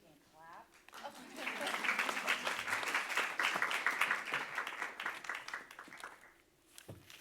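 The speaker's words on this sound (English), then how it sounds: "I think we can clap." Audience applause at a live talk on contemporary Indigenous art at the Whitney, a sustained burst of clapping from a seated crowd that swells and fades over several seconds, with a brief voice at the start.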